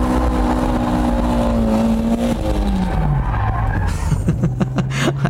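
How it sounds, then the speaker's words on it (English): An underpowered car power-drifts sideways with the throttle held open, its engine droning steadily while tires skid and squeal, the engine note dropping partway through before loud scrubbing tire bursts near the end. "With these underpowered cars, you just have to keep the gas on to get it into power drift mode."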